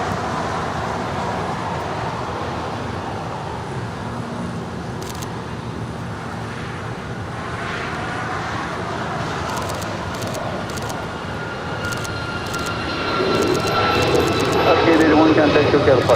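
A heavy jet airliner taking off from runway 25 right at LAX sends a continuous broad engine roar that swells toward the end, with radio chatter in the background.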